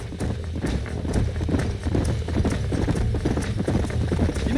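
Rapid, rhythmic hoofbeats of horses galloping in the video game Red Dead Redemption, a steady drumming clatter that stays loud and continuous throughout.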